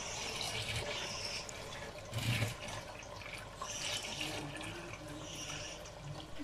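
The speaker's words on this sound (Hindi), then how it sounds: "जिस बर्तन में हमने चावल उबालने हैं उसके अंदर पानी डाल लेते हैं" Water is poured into a cooking pot that will be used to boil rice for chicken biryani, a close, steady splashing pour with a brief louder gush partway through and no talk.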